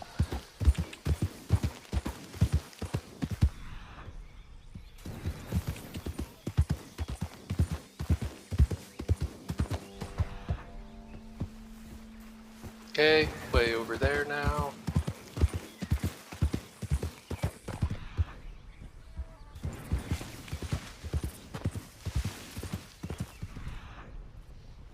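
Hooves of a Missouri Fox Trotter horse in the video game Red Dead Redemption 2 clip-clop in a steady walking rhythm, with the horse whinnying briefly midway and a voice speaking quietly at one point.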